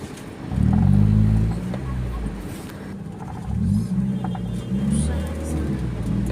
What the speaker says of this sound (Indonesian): Mendekati maghrib ini semakin ramai lalu lintas ini ya teman-teman.